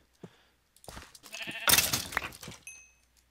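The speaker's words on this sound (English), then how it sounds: "Sheep's down in that hole. He's stuck." A sheep in the video game Minecraft bleats in short wavering cries, close and fairly loud, with a brief chime-like tone at the end and no talking.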